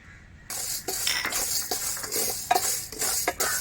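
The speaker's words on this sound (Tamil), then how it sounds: "உளுந்து கொஞ்சம் நல்ல வாசனை வர வரைக்கும் வறுக்க வறுக்கணும்" Urad dal roasting in a pan with the sound of stirring: scraping and clinking of a utensil against metal over a light, steady sizzle, close and fairly loud, and no voices.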